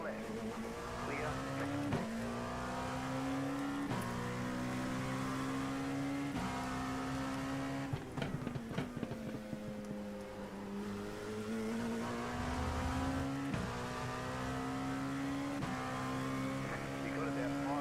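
LMP2 prototype race car engines drone through a race at Sebring in iRacing, a steady high-pitched whine rising and falling with gear shifts, plus a brief rattle of passing traffic midway.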